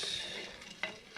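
Coffee beans being stirred and roasted in a hot pan: a short, close scraping rustle with a soft sizzle, ending in a couple of sharp scrapes.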